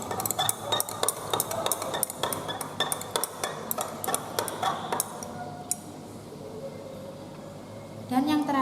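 A spoon taps and clinks rhythmically against a glass container while a vinegar solution is stirred until evenly mixed, the quick strikes slowing and stopping before a final clatter.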